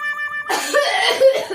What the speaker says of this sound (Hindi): मेरे ऊपर क्यों खांस रहा है?